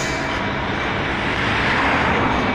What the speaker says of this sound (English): But there's one helicopter over there.